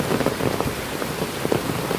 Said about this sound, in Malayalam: ജില്ലയിൽ നല്ല മഴയാണ്, ഒരു രക്ഷയില്ല